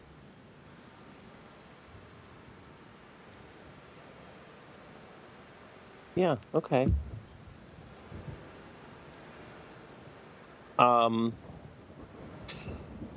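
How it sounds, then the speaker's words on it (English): Steady pouring rain hiss fills the background throughout, faint and even, while voices speak briefly over it; no distinct thunder clap stands out. "Yeah, you are outside, and it is pouring rain."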